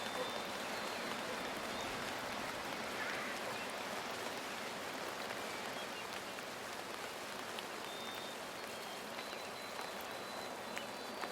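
Rain in a Black Myth: Wukong game trailer falling and hitting surfaces: a steady, dense hiss of drops, even and unbroken throughout, fairly faint, with no talking.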